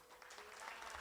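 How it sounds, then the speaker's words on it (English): An audience at a Hindu temple's fiftieth anniversary celebration gives steady, faint applause, a soft continuous wash of many hands clapping in the distance. "let's give him another huge round of applause"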